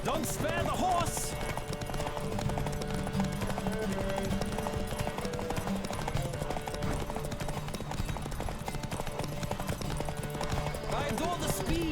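Hooves of a galloping horse pounding in a race in The Witcher 3, a fast, relentless clip-clop rhythm held close and loud for the whole stretch, layered over background game music.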